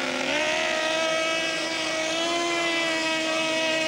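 A racing motorboat of up to 110 horsepower and 85 kilograms, from 1980s East German powerboat racing, drones steadily as it heads out to the start zone, a loud sustained engine whine with shifting pitch and no talk.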